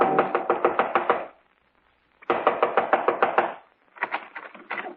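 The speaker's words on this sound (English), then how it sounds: "Within 15 minutes, I was knocking on his front door." Knocking on a front door as a radio drama sound effect, played as two rapid, close bursts of about eight wooden raps each, then a shorter, uneven set of knocks.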